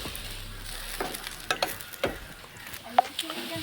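Potatoes frying in oil in a village kitchen pan give a steady, fairly close sizzle, with scattered scraping clicks from stirring and no talking.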